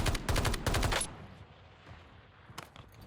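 Pistol gunfire in Call of Duty Warzone: a rapid string of about five sharp, loud shots within the first second, a quiet lull, then one more crack and a few fainter pops near the end.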